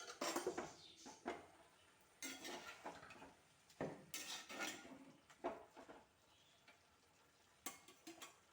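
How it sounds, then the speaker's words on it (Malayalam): A clay pot is set over leafy vegetables cooking in a pan, giving a few hollow earthenware knocks and scrapes spread between quieter pauses. There is a faint sizzle underneath and no talking. "അങ്ങനെ നമുക്ക് മൺപാത്രം വെച്ച് തന്നെ മൂടി കൊടുക്കാം."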